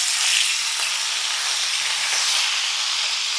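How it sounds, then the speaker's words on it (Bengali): Hilsa fish head, coated in turmeric, frying in hot oil in a pan, giving a steady, close, bright sizzle and hiss that stays loud and even throughout with no talking. "এই মাছটা এইভাবে ভেজে নেব।"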